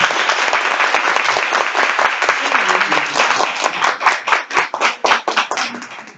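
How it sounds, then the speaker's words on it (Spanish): An audience applauds at the end of a philosophy seminar session, dense sustained clapping from a room of people that thins into a few separate claps as it fades. "os pido por favor un aplauso encarecido para esta sesión maravillosa"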